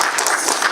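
A church congregation claps in a dense, continuous burst of applause, close and full for under a second, with no other sound standing out.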